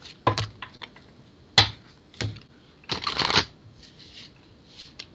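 A deck of cards is shuffled by hand in several quick, crisp riffling bursts separated by short pauses, close to the listener.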